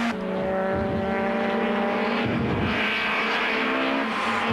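Super Touring race cars from the 1996 South African championship roar past along a circuit straight at Goldfields Raceway, their engines droning loud and steady with shifting pitch as they pass, with no talking.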